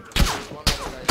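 Two sharp gunshots roughly half a second apart in the battle royale game PUBG Battlegrounds, each a loud punchy crack with a short decay.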